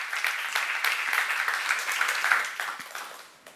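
A church seminar audience breaks into a short burst of applause, a dense, close round of clapping that holds steady for about three seconds before tapering off, with no voices over it.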